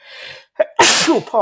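A man indoors lets out a loud, sudden sneeze, a sharp close burst after a brief intake of breath, alone with no talking over it.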